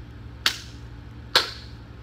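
Two crisp hand claps land nearly a second apart on a beat-map rhythm drill, sharp and close against a quiet humming background.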